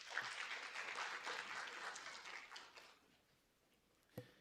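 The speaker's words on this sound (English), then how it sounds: "let's give them a warm round of applause and welcome" A crowd claps steadily for a few seconds before the applause thins out and fades, leaving a couple of stray sounds.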